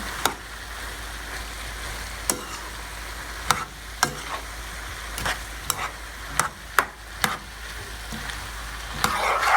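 A spoon stirs Vietnamese shrimp noodles with garlic and butter in a pan, giving a steady close sizzle broken by about ten sharp scraping clinks spread irregularly across the stretch.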